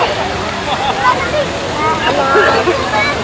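Water fountain splashing at India Gate, a steady close rush and spatter of falling water filling the whole moment, with people talking over it.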